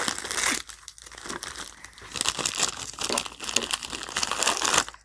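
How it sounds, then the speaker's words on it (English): Loud, close crinkling and crumpling of a thin material goes on almost without pause, in uneven bursts with one short quiet gap near the start. "Okay, crinkling."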